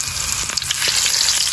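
Garlic sizzling in hot oil in a pan, a steady bright crackling fry with a few small pops, loud and close throughout, no voices.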